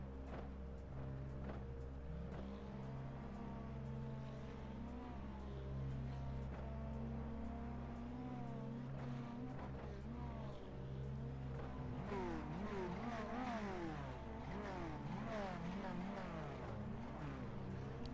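Ferrari race car engines in a sim racing game drone and whine steadily, with rising and falling revs as gears change. Later, several cars accelerate together in a busier, layered roar at moderate volume.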